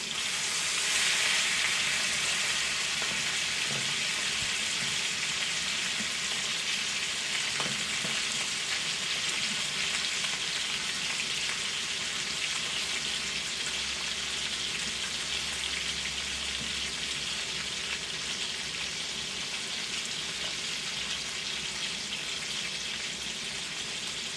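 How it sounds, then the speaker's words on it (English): Chopped steak sears in a pan for smothered steak, a steady loud broadband sizzle and crackle of frying that holds throughout with faint spatters and occasional stirring. "You want a good sear on both sides."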